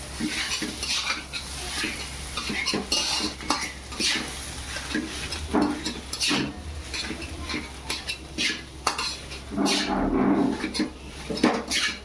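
Katvada mixture being mixed by hand in a bowl, squishing and slapping in steady irregular strokes with occasional clinks of the bowl, close and moderately loud, no talking.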